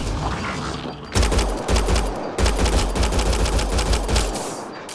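Rapid bursts of automatic gunfire from the sci-fi shooter Mass Effect Andromeda, loud and close, in three dense volleys separated by short pauses, with no talking.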